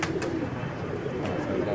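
Sialkoti pigeons on a rooftop giving soft, low cooing in a brief burst, fairly near, over faint background noise.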